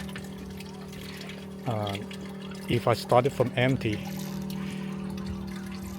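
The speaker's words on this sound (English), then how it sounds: "the pump is actually pumping a lot of water" A boat's washdown pump drives water through a narrow hose into a livewell, making a steady mechanical hum with running water throughout while someone talks over it.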